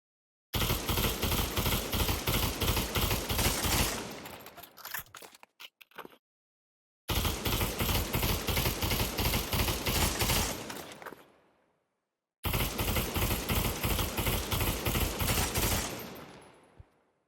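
An M16 rifle in the Pavlov VR shooter fires three long fully automatic bursts, each a rapid, evenly spaced string of sharp close shots that trails off, with short silent gaps between bursts.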